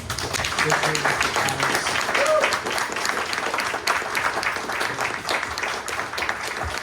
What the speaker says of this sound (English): Everyone, like to please give them a round of applause.